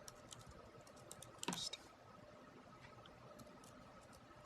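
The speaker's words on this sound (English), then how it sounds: "And then I'm going to type in her user account." Someone types on a computer keyboard: a short, quiet burst of keystrokes clatters near the middle against faint background noise, with no talking.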